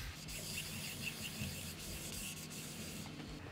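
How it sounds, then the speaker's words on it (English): A rag rubs polish over a turned wooden piece on a stopped lathe, a faint, steady soft scrubbing close by with no voices. "I'm gonna rub it all over the piece with the lathe stopped"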